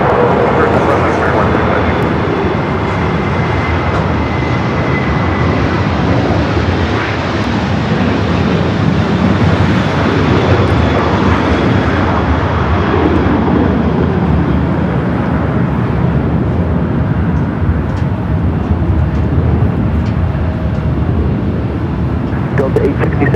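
A jet airliner takes off from runway 24 left at Los Angeles International Airport, producing a loud, steady, broadband engine roar that holds for over twenty seconds and slowly shifts in tone.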